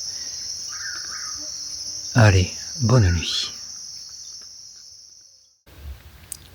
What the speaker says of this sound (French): la nuit il y a une multitude d'animaux nocturnes qui communiquent